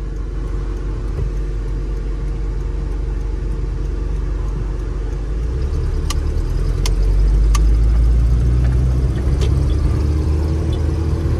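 A 1989 Toyota pickup's 22RE engine idles at a steady, low, even rumble, which deepens and grows louder partway through, with a few faint clicks and no talking.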